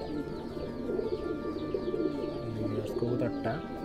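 A fighter pigeon coos softly nearby in a series of low, rolling notes, with faint background noise and occasional chirps around it.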